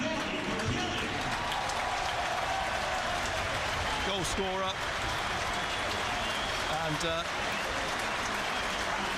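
A football stadium crowd at Sunderland versus Tottenham applauds a substitution, a distant, steady wash of clapping under someone commentator's voice.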